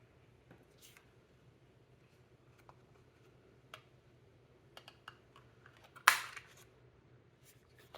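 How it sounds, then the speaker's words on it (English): A craft paper punch snaps through small scraps of black paper in one sharp crunch, with quiet handling clicks and taps before it in a still room. "we're gonna punch out two more black pupil pieces like we did for our chick"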